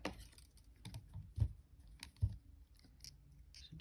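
Wire snipped with cutters while wrapping a chain link, a few faint, sharp clicks and snips heard close up in a quiet room.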